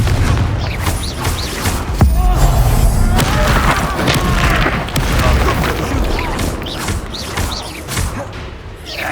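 Spell combat in Hogwarts Legacy with the Confringo fire-blast spell: repeated loud booming bursts and crashes through a dense, continuous battle din, with cries and voices mixed in throughout.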